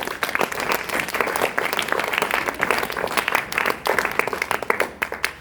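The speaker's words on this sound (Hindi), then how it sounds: "तो चलिए इसके लिए आप लोग ताली लगा लीजिए" A gathered group claps together during a morning motivational session, brisk continuous applause with sharp individual claps standing out near the end.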